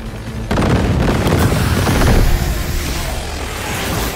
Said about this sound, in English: It's a pretty good grenade.